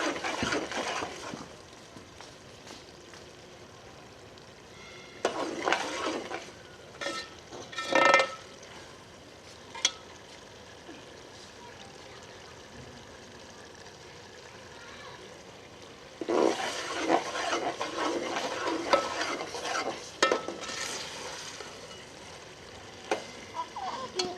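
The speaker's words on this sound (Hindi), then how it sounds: "इसे भूनते रहेंगे और चम्मच को बराबर हिलाते रहेंगे ताकि नीचे से लग ना जाए।" Minced meat and potatoes frying and being stirred in a pan for dhaba-style aloo keema, with soft sizzling and a few bursts of spoon scraping, louder near the start and again in the latter half.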